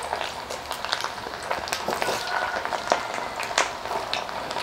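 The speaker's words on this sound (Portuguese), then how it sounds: "Agora a segunda parte é fritar meus vegetais." Carrots frying in a pan of hot oil, a steady close crackling sizzle with irregular pops and spits throughout.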